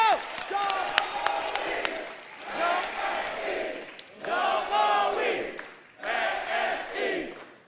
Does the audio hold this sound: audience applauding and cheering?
yes